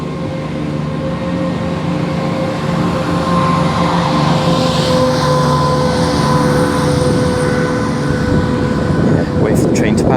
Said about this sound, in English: Wait for the train to pass.